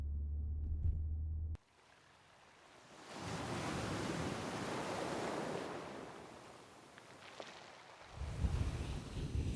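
Ocean surf at Pompano Beach, a soft broad wash of waves rolling in and fading, with some wind noise. A brief low rumble opens the sound and another comes near the end.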